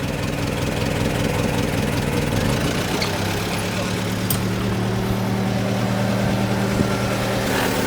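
A damaged Mercedes-AMG GT idles steadily with a low, even rumble close by, the engine drone continuous throughout.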